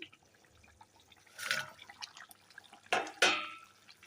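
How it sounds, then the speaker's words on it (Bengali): Tangra fish curry gravy boils in a pot, quietly popping and bubbling in soft, irregular bursts, with a couple of louder splashes near the end. "ঝোলটা দেখো আমার এখন ভালো করে ফুটে গেছে"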